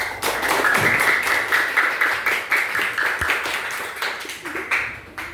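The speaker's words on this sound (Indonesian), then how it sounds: "Boleh kita tepuk tangannya?" Applause from a group of school students in a classroom, a dense burst of hand claps that swells early and then gradually thins out and fades over several seconds.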